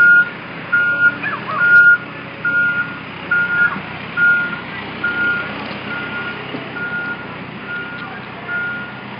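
A truck reverses with its backup alarm beeping in a steady repeating rhythm, loud and close at first, then fading as it moves away, over outdoor traffic rumble during a police raid on the Occupy Honolulu camp.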